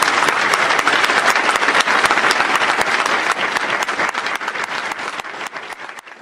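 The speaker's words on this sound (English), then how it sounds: "Let's give them a round of applause." A graduation ceremony audience for sheriff's cadets claps steadily in sustained, dense applause that holds strong for several seconds, then slowly thins out toward the end.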